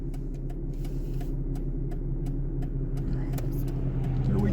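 A 250,000-mile Ford Mustang heading onto a highway, with a steady low engine and road rumble from inside the car and a light ticking running throughout.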